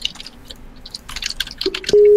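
A phone call rings out unanswered, with a steady ringing tone starting near the end over faint background clicks and chewing-like noises.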